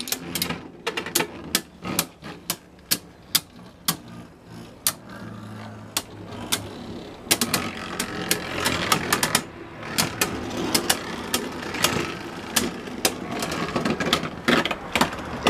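Beyblade spinning tops battle in a stadium, a Genesis Valtryek against a Blast Genius, with a rapid, irregular run of sharp clicks and clacks from close by over a steady whirring hum.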